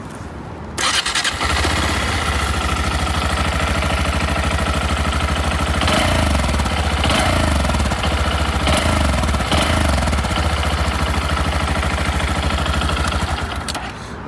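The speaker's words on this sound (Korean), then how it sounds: "꽤 이렇게 약간 그런 단기통, 빠당빠당한 그런 소리가 나긴 하는데" A Honda Monkey 125 single-cylinder motorcycle starts up close by after a brief crank, then idles loud and steady with a thumping, popping beat, with a few blips of revving partway through.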